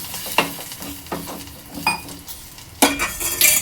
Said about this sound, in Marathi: आगरी कोळी मसाला, चांगला तेलावर 2 मिनिटं परतून घ्यायचं आहे।